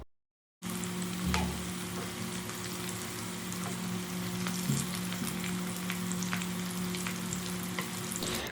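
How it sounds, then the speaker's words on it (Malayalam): A chicken-filled snack deep-fries in hot oil until golden brown, giving a steady, dense sizzle and crackle that holds evenly throughout with no voices. "തിരിച്ചും മറിച്ചൊക്കെ ഇട്ട് കൊടുത്തിട്ട് ഒരു ഗോൾഡൻ ബ്രൗൺ കളർ ആവുന്നത് വരെ ഫ്രൈ ചെയ്തെടുക്കുക"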